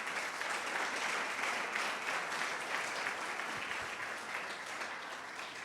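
A church congregation applauds steadily for several seconds, a dense, even clapping that fades slightly toward the end, with no voices over it.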